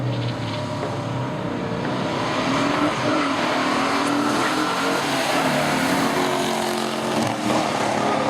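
A 1965 Pontiac Tri-Power GTO roars down a pure stock race strip, its engine a loud, continuous, close-up blare that holds steady throughout.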